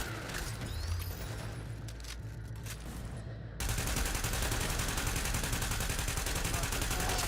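Sustained automatic gunfire in The Division, continuous rapid shots under a game soundscape that jumps sharply louder halfway through into a dense, unbroken stream of fire.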